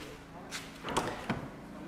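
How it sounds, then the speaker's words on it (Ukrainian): A BMW M3 E30 car door fitted with new seals shuts with a single muffled thud, preceded by a faint click and followed by a softer knock, heard close up in a quiet setting. "ти коли закриваєш двері"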